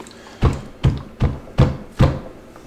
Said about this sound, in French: Et on va tapoter le cul de la cuve sur une surface dure pour faire remonter les bulles qui sont collées sur le film.